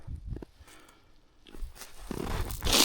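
Plastic baling string is cut and pulled off old hay bales in winter, giving brief tearing, rustling and crunching bursts that grow louder and denser toward the end, close by with no talking.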